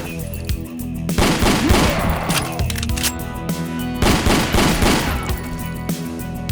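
Video game Ashes 2063: two heavy explosive blasts burst through a wall, separated by a few seconds, loud and close, each followed by a rumbling, crackling tail amid rattling gunfire-like noise.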